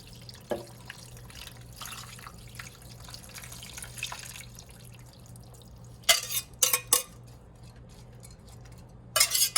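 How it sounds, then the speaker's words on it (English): Whisked liquid mixture poured over a roast in a crock pot gives soft dripping and splashing, mostly quiet, with a few short, louder pouring bursts near the end. "And then I'm going to go ahead and pour it over my roast."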